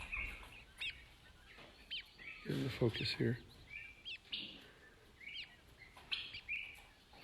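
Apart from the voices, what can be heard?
quail hatchlings chirping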